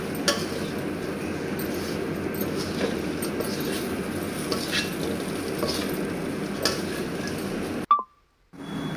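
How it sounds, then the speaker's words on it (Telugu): Flattened rice (poha) stirred with tempering in a pan: a steady sizzle with light ticking and clinks of a spoon against the pan, ending in a sudden cut to near silence. "కొంచెం అటుకులు, సన్నపు అటుకులు వేసుకొని బాగా కలపాలి."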